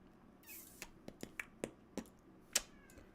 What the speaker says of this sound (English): And my kitty's screaming in the corner.